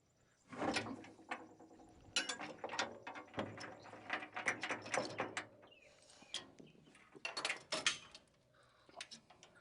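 Ratchet wrench clicking while a part is unbolted on the wobble box of a John Deere 900 series combine head, with repeated bursts of close, sharp metallic ratcheting and pauses between turns.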